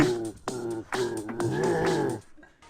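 A cat yowls in a few drawn-out, wavering meows, close and fairly loud, fading out near the end.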